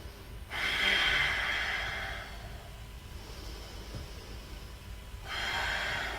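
Deep, close breaths during a warrior two pose in a vinyasa yoga session: a long airy inhale or exhale, a quieter stretch, then another strong breath starting near the end, with no talk.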